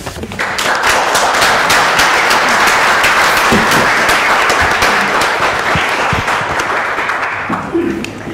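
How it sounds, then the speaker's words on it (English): Sustained, dense audience applause at a human rights conference on universal jurisdiction law concerning China and Tibet, loud and steady for about eight seconds after a speech ends, with faint murmuring underneath. "Thank you very much for that sound clap."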